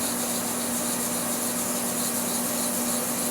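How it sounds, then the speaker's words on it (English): Wet sanding a Citizen ProMaster Diver watch with 2000 grit sandpaper and alcohol, a steady close rubbing hiss that continues without pause, with a faint constant background hum and no talking. "Put a little bit of alcohol on the sandpaper and go to town."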